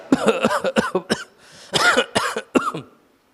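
A voice imitates a man coughing, with a rapid run of harsh, close cough bursts in two clusters separated by a brief pause, trailing off into quiet at the end.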